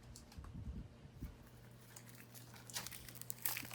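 A pen jabs into the plastic shrink-wrap of a Marvel Blu-ray case, making close crinkling and crackling with sharp taps and scratchy bursts that grow busier toward the end.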